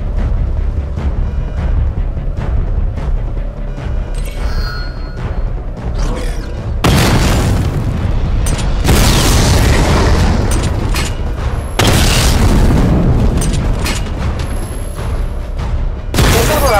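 Booming explosions rip through a Batman: Arkham Knight tank battle as targets are destroyed, loud and dense, with a rumbling bed, sharp bursts and several heavy blasts packed close together in the second half.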